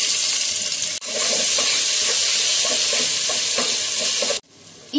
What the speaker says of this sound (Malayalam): ഇനി നമുക്കിതിലേക്ക് ഇഞ്ചി വെളുത്തുള്ളി പേസ്റ്റ് ചേർക്കാം.